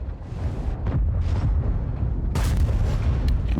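A World of Tanks E100 heavy tank gun fires with a deep, heavy boom, followed by rumbling engine and battlefield noise and a sharp crack partway through, loud and close.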